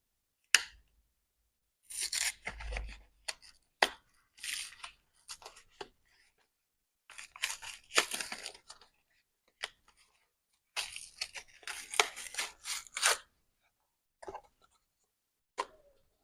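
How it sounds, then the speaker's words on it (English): Cardboard packaging is torn open while unboxing a GraphGear 1000 pencil, with close, crisp bursts of ripping and crinkling separated by short pauses and a few sharp snaps. "In case you like to like listen to cardboard ripping or something like that, you know, the authentic unboxing experience."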